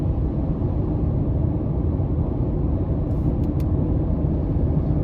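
A 2023 Honda CR-V EX with the 1.5-liter turbo and all-wheel drive pulls hard under acceleration, a steady, loud low engine and road rumble filling the cabin with no gaps.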